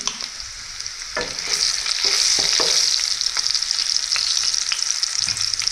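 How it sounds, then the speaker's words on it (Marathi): Green chili and garlic frying in hot oil with a bright, continuous sizzle that swells partway through, broken by sharp scrapes and clicks of a spatula against the pan, with no talking. "हिरवी मिरची लसूण लसूण मिरची चांगली आता परतून झाली तेलात हळद टाकून घेऊ"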